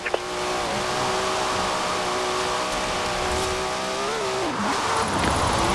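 Forza Horizon 4 car held at high revs with tyres burning and squealing, a steady loud engine drone and tyre screech that dips in pitch near the end; no talking.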